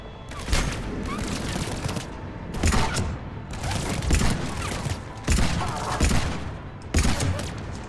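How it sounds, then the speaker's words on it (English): Heavy gunfire and explosive booms in Mass Effect 3, with a grenade going off amid repeated bursts of shooting, loud and close throughout. "Oh, hey, a grenade!"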